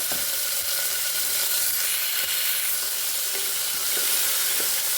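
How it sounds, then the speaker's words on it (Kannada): Cowpeas (alasande kalu) fry in hot oil, giving a steady, dense sizzle with a few faint clinks of stirring, close and continuous with no voices. "ಆಯಿಲ್ ಹಾಕ್ಕೊಂಡು ಅಲಸಂದೆ ಕಾಳು ಫ್ರೈ ಮಾಡಬೇಕು."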